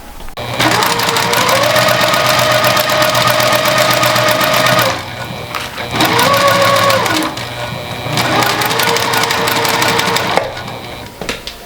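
A sewing machine stitches fabric for a garment in three loud, steady bursts of rapid mechanical whirring, each stopping briefly before starting again.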